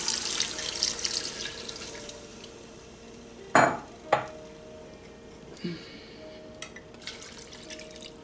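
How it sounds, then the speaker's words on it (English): Water running from a tap into a cooking pot of oxtail with thyme, rosemary, pepper, celery and carrots, a soft steady pour in a kitchen broken by a couple of sharp clanks of the pot. "Cover with water."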